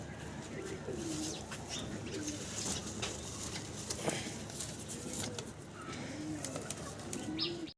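Pigeons on a farm coo repeatedly at close range, soft rolling calls recurring every second or two over a steady background of rustling and faint chirps.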